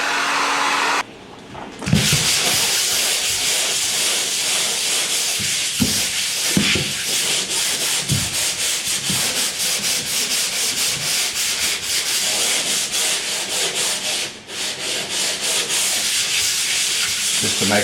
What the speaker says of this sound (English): it'll be dry and we can sand it